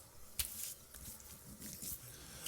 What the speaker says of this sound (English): I'm going to rinse this with cold water.